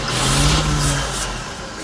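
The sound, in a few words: old 3 ton grain/gravel truck engine starting and revving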